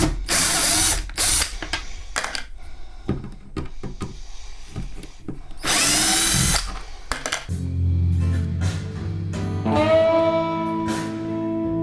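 Cordless screwdriver backing screws out of a 1964 Fender Tremolux amplifier: repeated loud whirring bursts with ratcheting clicks and handling clatter between them, close up with no talking.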